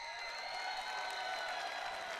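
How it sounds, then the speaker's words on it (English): Crowd cheering and screaming at the BlizzCon 2019 opening ceremony, a faint, steady wash of distant voices and applause that holds for the whole stretch. "There's a girl just screaming. Like, she's not even cheering, just screaming."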